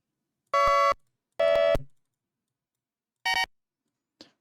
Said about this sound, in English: That's a good beeping sound.